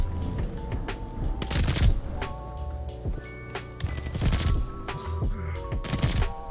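Rapid bursts of M19 gunfire in a video game crackle in quick succession, with sharp shots and booming impacts layered over electronic game sounds.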